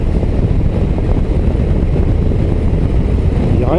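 A Harley-Davidson Low Rider ST cruiser engine on the move, a loud, steady, dense rumble mixed with wind noise that holds unbroken throughout, with no talking.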